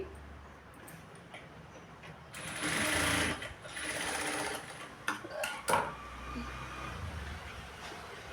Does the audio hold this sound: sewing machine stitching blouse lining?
yes